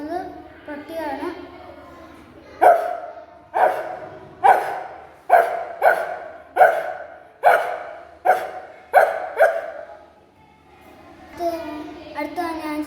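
A child imitates a dog barking, a rapid series of about ten sharp, evenly spaced woofs delivered close and loud, preceded and followed by brief talking.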